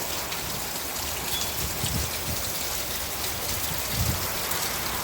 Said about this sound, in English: the rain picking up some more